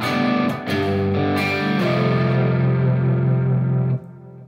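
Dirty rhythm electric guitar tone from a Line 6 Helix set with moderate gain and slight delay: sustained strummed chords ringing loud and steady for about four seconds, then cut off, no talking.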